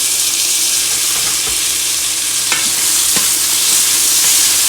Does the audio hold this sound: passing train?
no